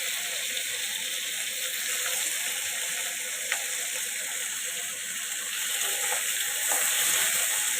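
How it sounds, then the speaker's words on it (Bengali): Tomatoes hitting a hot pan of fried hilsa fish pieces, a steady broadband sizzle with soft crackles and stirring ticks throughout, moderately close, and no talking. "এখন আমি টমেটোগুলো দিয়ে দিব।"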